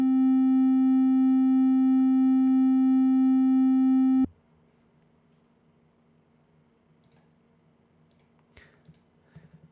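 A Caustic 3 synth sine tone holds steady and loud, panned left to right by an LFO, then cuts off abruptly partway through, leaving near-silence with faint clicks.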